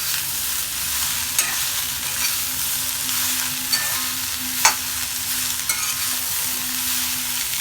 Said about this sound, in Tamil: இப்படியே நல்லா பிரட்டி விட்டு நல்லா சுருண்டு வரும் வரையில் இதை பிரட்டி எடுப்போம்